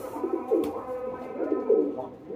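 Newly acquired pigeons coo in a loft, giving soft, throaty, repeated rolling calls close by, with two or three coo phrases over a couple of seconds.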